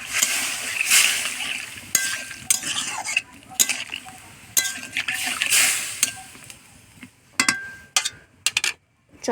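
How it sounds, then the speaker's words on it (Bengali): Water is poured into a pan of frying mustard paste curry, with splashing hiss bursts, sizzling and clattering utensil knocks in a busy, uneven close-up sequence. "সরষে বাটাটা দিয়ে অল্প ভেজে জল ঢেলে দেবো"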